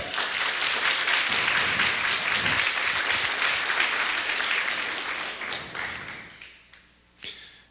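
A church congregation claps together in steady, dense applause that gradually thins and fades out, ending with a single stray clap.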